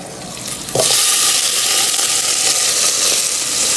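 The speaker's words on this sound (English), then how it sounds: "Now I'm going to fry up the vegetables. In go the onions, and I added some garlic." Chopped onions and garlic land in a hot pan and burst into a loud, steady sizzle that keeps going, close and clear without any talking.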